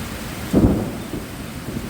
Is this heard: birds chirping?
no